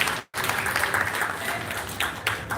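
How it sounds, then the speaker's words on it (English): An audience at a magic show claps in a short, dense burst of applause with no pause after a brief break near the start. "Please give them a nice round of applause,"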